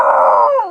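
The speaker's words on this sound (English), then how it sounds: "Hey Gold, what are you barking at? Is there an intruder?" A dog on Siargao island in the Philippines gives one short, loud, close vocal call that is drawn out and tonal, more like a howl or whine than a sharp bark.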